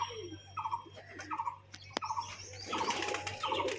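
A domestic pet pigeon gives several short coos close by, then its wings flap in a brief noisy burst toward the end.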